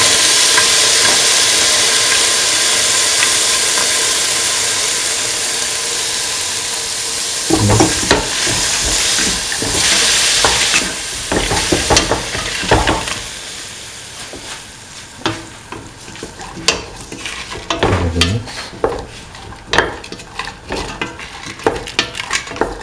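Green peas fry and get stirred in a pan for an ivy gourd and coconut milk stew, with a steady broadband sizzle and then a run of scraping, clattering stirring strokes that grow busier toward the end.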